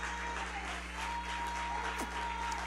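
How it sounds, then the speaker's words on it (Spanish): A congregation at a Spanish-language sermon applauds, a steady, dense wash of clapping under a constant low hum, with no distinct voices rising above it. "Si yo fuera a usted, aplaudiera un poquito más fuerte a eso."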